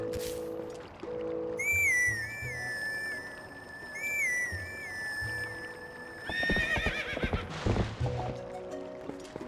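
In Zelda: Twilight Princess, Epona the horse gives high whinnies over a looping game music bed, followed by a burst of trotting hoofbeats and clatter near the end; no one speaks.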